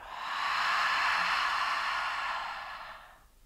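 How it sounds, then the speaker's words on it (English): A single long, breathy ujjayi yoga exhale pushed out through an open mouth, a soft hissing "ha" that swells and then fades away, close up with no talking. "you're really just pushing the air out as you exhale, making this ha sound"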